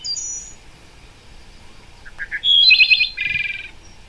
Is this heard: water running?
no